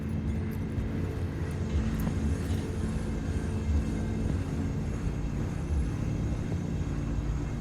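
Old train engine running in Cyberpunk 2077, a steady low rumble and drone that holds even throughout at a moderate level, with no talking.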